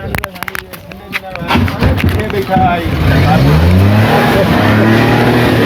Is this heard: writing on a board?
no